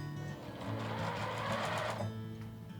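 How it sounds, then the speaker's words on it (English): A sewing machine stitches the final pass of a French seam on a dress, a close, steady motor whir and needle chatter that swells briefly in the middle and then settles, with no one speaking. "We're gonna finish off our French seam."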